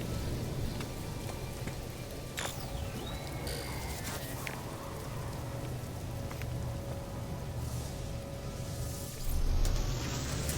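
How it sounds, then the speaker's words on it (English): Heavy rain inside a building in a video game: a steady, loud hiss of downpour fills the whole stretch, with a few faint clanks and a brief surge near the end. "That's some heavy-duty rain when it follows you inside the building."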